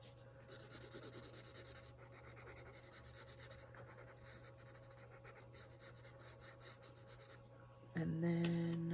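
A 2B pencil shades across paper in steady, soft scratchy strokes with a continuous close rasp, fairly quiet, with a louder knock or shift near the end.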